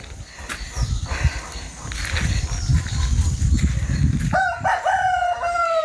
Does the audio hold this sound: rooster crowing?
yes